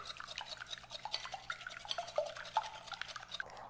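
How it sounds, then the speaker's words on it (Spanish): Eggs whisked briskly in a bowl for a quiche Lorraine, a steady run of quick scraping, tapping strokes close up, with no voices. "Y los vamos a batir muy bien."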